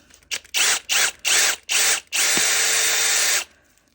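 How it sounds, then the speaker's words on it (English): A power drill whirs in four short bursts into a resin Christmas tree craft, then runs steadily for over a second before stopping. It is close and loud. "So I've got my drill and I've already pre-drilled through here."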